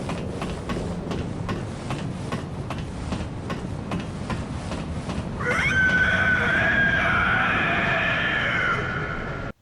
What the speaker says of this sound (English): The cleric beast screeches.